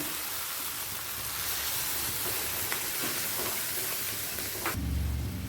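Water poured into hot oil with mustard-cashew masala for a pomfret fish curry sets off a loud steady sizzle and hiss, with a deeper bubbling surge near the end.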